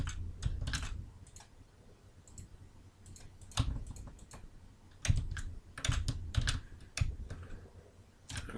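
Computer keyboard keys and a mouse button clicking in scattered bursts, close and crisp, with quick double clicks and short runs of key presses during 3D plane fitting work on scan data.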